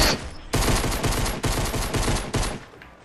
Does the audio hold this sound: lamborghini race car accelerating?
no